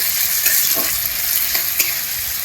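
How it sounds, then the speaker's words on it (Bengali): Chopped onion frying in hot oil for a new-potato aloor dum, a loud, close, steady sizzle with a few bursts as the pieces are stirred. "তেলটা গরম হয়ে গেছে, দিয়ে দিচ্ছি পেঁয়াজ।"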